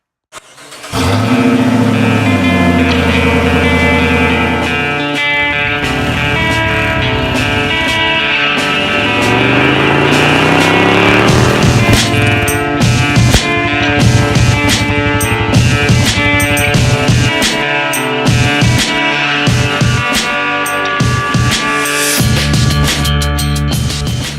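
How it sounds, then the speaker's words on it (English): A supercharged 2007 Dodge Charger R/T AWD engine fires up and runs loud and close, with a steady roar and several rising revs partway through. No talking is heard. "we finally have our first start and our first drive"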